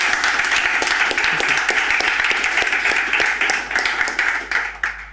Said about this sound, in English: let's thank Thierry and Robert with applause.